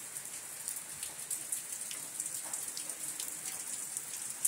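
Heavy monsoon rain pours down during a Bengali morning, a steady hiss of drops on surfaces, moderately soft and continuous with scattered louder patters and no voices.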